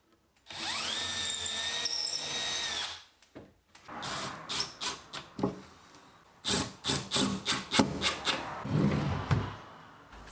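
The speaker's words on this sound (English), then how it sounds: "drill the holes for a perfect, consistent placement of each handle every time" Power drill boring holes through wooden drawer fronts guided by a jig, a sustained whirring spin-up followed by a run of short, rhythmic grinding and scraping bursts, close and clear.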